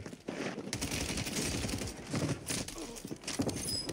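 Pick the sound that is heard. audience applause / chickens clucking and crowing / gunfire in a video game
gunfire in a video game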